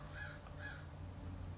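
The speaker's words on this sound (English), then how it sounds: "My crows are out there, you know, agreeing with me here." Crows caw outdoors, two faint, distant caws in quick succession over a steady low background rumble.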